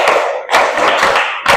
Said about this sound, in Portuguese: Uau, palmas para ele.